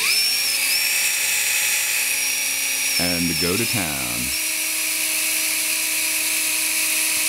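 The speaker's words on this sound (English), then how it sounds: "Notice that I have the drill on high because that will move the most stuff out of the way." A power drill runs on high speed while boring a hole for a rod, whining steadily and close throughout. Its pitch dips briefly mid-clip, and someone speaks over it.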